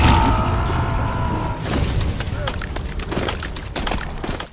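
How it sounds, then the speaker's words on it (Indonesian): A cinematic explosion in the Anaconda film, as a grenade blows up a man together with the giant snake: a heavy booming blast at the start, trailing into rumbling debris and scattered sharp cracks. "membuat Eugene beserta Anaconda meledak bersama"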